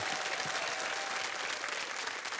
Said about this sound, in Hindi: तालियों के साथ मैं चाहूंगा कि इनका स्वागत करिए।